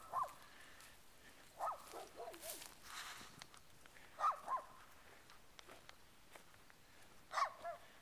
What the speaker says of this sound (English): Freaking dogs.